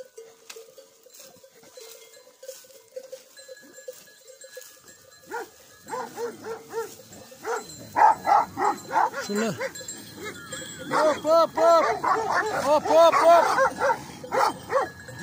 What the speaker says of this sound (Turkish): Köpekler kendi aralarında atışıyorlar.